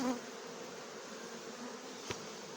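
A steady drone of many honey bees buzzing together at a hive, close and continuous, with one brief louder buzz passing by.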